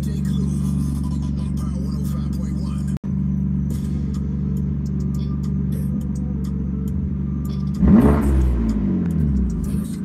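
BMW M4 with push start idling with a low steady exhaust drone, then a sharp rev rising and falling briefly near the end, close and fairly loud.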